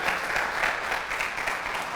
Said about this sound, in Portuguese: Dá um aplauso aí para você animar, se tomou o café